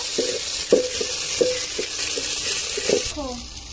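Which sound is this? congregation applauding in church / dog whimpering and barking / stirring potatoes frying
stirring potatoes frying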